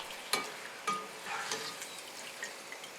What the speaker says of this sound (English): Over low heat, add the dried chilies for 6 seconds.